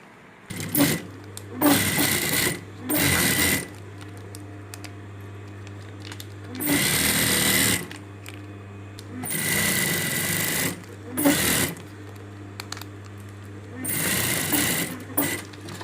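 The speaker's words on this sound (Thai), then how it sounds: "เดี๋ยวเราจะไปเย็บสาย" A sewing machine stitches a bag strap made from a feed sack in several bursts of whirring, each running one to two seconds and separated by pauses filled with a steady low hum.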